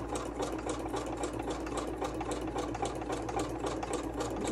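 A sewing machine runs steadily through foundation stitching on fabric, its motor hum and rapid needle chatter continuous and close throughout, with no voices over it.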